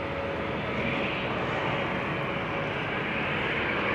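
Jet airliner operated by KM Malta at Amsterdam Schiphol Airport, a steady broadband engine roar held at moderate distance with a faint tonal whine, constant in level throughout, with no voices.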